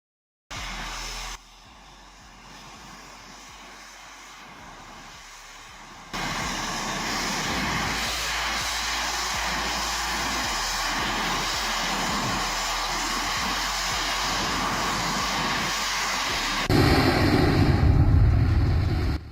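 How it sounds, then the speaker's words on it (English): High-pressure steam blasts from a pipe with a loud, steady roaring hiss like a jet engine, broadband and continuous, swelling louder near the end. "High-pressure steam blasts out of a pipe, sounding like a jet engine ready to take off."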